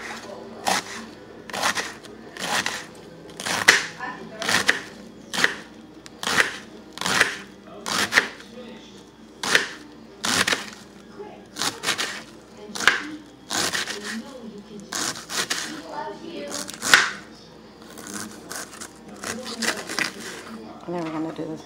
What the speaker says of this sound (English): the green cabbage, and we're going to do the same with it. So let's go ahead and cut it same way, then slice.